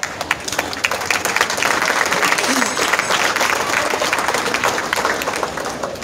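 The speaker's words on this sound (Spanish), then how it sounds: "Brindemos fuertes aplausos." A crowd at a cultural event in San Mateo Yoloxochitlán bursts into loud, dense applause that holds steady for several seconds before easing slightly, with a few voices mixed in.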